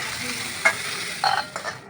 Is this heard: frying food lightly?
yes